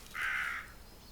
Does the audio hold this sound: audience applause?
no